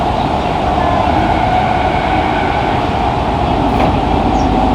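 A Fukuoka City Subway 2000 series train, set 23, with late-type Hitachi GTO-VVVF control, runs under manual driving with a steady loud rumble and a continuous motor hum, close and constant with no talk.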